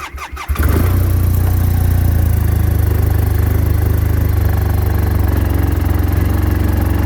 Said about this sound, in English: We haven't drove the snow machine in probably 8-9 days.